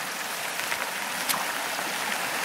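Steady broadband rush of a creek flowing close by, continuous and fairly loud with no talk, water noise filling the scene throughout.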